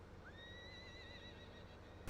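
A single horse whinny from a barn in Farming Simulator 15 rings out clearly over a steady low background hum, ending with a brief burst of noise.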